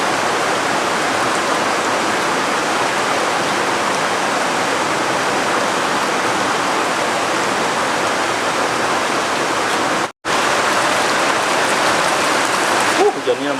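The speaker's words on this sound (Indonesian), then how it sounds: "Hujannya nambah gede mah." Heavy rain falls on a hut beside a rice field by a river, a loud, dense, unbroken roar that briefly cuts out once near the end.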